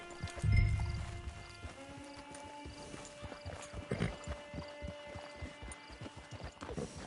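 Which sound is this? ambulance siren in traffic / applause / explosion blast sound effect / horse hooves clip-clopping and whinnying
horse hooves clip-clopping and whinnying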